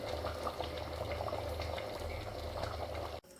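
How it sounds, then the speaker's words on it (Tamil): Chicken curry bubbling steadily in a pot during home village cooking, a dense continuous simmering burble with small popping bubbles, close and even throughout, cut briefly near the end. "குழம்பு நல்லா கொதிச்சிருச்சு"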